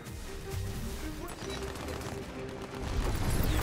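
Rapid gunfire in the looter-shooter Tiny Tina's Wonderlands, steady overlapping bursts of shots and impacts throughout a chaotic firefight, with players talking over it.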